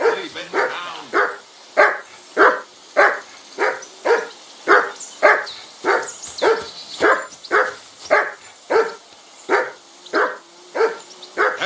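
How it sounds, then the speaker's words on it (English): A dog in the video game Kingdom Come Deliverance 2 barks steadily and loudly, a long regular series of roughly fifteen evenly spaced barks with no talk over them. "I assume you can hear that damn dog of yours barking."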